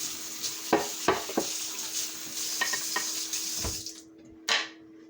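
Sausages cooking in a single pot of survival stew, giving a steady close sizzle and bubbling with a few clattering knocks of utensils, then a brief quiet and one more scrape near the end.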